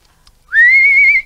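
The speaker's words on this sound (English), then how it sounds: "You know how I whistle?" A person whistles a single sustained, slightly rising note, loud and very close, after a brief quiet lead-in with a faint intake of breath.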